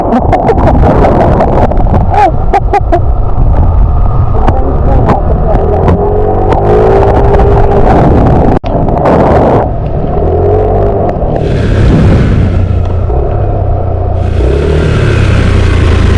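Motorcycle ride on a mountain loop road, with a loud steady engine drone and heavy wind rush close to the microphone, and people's voices briefly over it.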